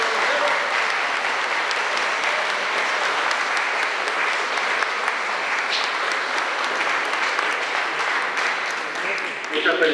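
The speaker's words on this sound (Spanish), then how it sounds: "Damos fuerte aplauso a los niños que han sido bautizados el día de hoy." Guests at a children's baptism ceremony in church give strong, sustained applause, a dense, even roar of many hands lasting the full stretch and tapering slightly at the end, with some voices mixed in.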